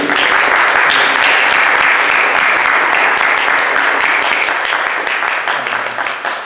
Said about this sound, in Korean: 먼저 박수로 환영하고 축복했으면 좋겠습니다.